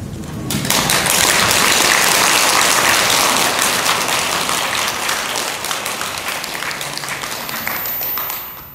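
Applause from a temple congregation at a Saturday Dharma service at Bulgwangsa, a Korean Buddhist temple, greeting a monk: dense, steady clapping from many hands that swells quickly, holds for several seconds and tapers near the end.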